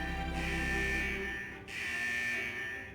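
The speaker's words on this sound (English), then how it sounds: "Is that the central alarm of the vault?" A vault's central alarm blares in Wuthering Waves as a steady electronic buzzing tone in two long pulses separated by a brief gap, fairly faint and with no talk.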